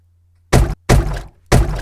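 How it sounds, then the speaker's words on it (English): Three separate impacts of glass striking a water surface, made as game sound design effects: sharp, loud, close thuds with short splashy tails, spaced about a third of a second apart, each alone over near silence. "This is where I used a glass hitting the water surface"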